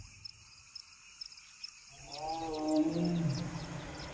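Shema, a lion in Rwanda, answers at night with a swelling roar that begins after a couple of seconds of near-quiet, rising loud and fading, while crickets and insects chirp softly around it.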